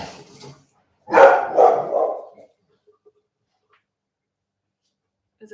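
Dog barking in a home kitchen, one short bark early followed by a louder burst of two or three barks close by, then quiet.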